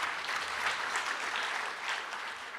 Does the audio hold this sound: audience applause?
yes